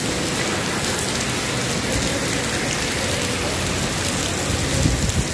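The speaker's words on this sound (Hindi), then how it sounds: "बहुत बहुत ज़बरदस्त बारिश हो रही है" Heavy rain pours steadily in Dubai, a dense, even hiss of drops hitting surfaces that stays loud and unbroken throughout.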